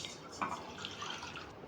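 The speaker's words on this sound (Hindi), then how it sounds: "अब इसमें नाप के 3 गिलास में पानी डालूंगा।" Water poured from a measuring glass into a saucepan on a stovetop over medium heat, a soft continuous trickling and splashing, fairly faint and close, with no talking.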